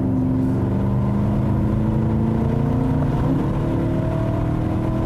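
A BMW M3 V8 engine revs high and steadily, a dense continuous roar with layered droning tones that holds for several seconds without letup.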